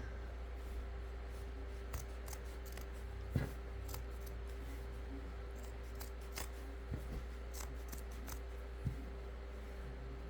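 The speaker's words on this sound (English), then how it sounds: "I just want to cut this piece off." Small scissors snip through doll clothes fabric with faint, sparse clicks and soft cutting strokes over a steady low hum in a quiet indoor room.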